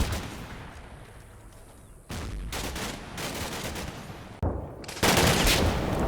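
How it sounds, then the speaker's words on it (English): Bursts of PKM machine gun fire in the war game Combat Mission: Black Sea, aimed at Ukrainian troops on a riverbank, arriving as several separate volleys that grow louder and denser toward the end, with no talk. "PKM begins to open fire on the Ukrainians in elevated position"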